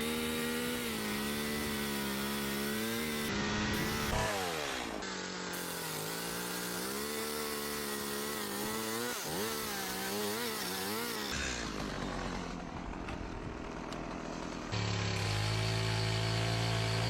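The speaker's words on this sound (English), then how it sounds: "He used the chainsaw to create clean," A chainsaw runs continuously for a log cabin build, its engine whining high and rising and falling in pitch as it bogs into wood and revs free, close and loud with no talking.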